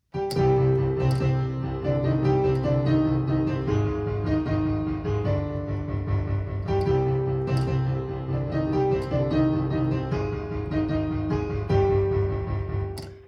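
Piano playing the FNAF theme through all four parts in a continuous passage of low repeated bass notes and a higher looping melody, dense and sustained, close with no voices.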